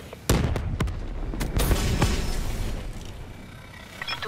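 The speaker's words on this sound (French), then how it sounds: "Grenade" A grenade blast in Call of Duty Black Ops III lands as a sharp boom, followed by a few more booms and sharp cracks over a sustained battle din, loud and close.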